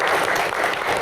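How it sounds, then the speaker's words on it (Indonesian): A room full of audience members claps steadily at a Q&A event, with a brief, dense burst of applause and a faint murmur beneath. "tepuk tangan untuk Coach Indra"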